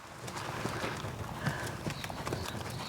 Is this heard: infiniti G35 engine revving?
no